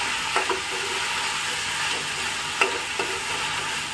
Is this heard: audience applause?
no